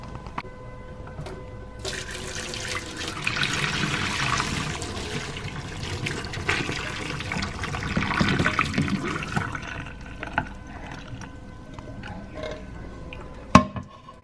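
Water pours and splashes as cooked tofu shirataki noodles are drained, a rushing stream that swells and fades over several seconds, then tapers to light drips and a sharp clatter near the end.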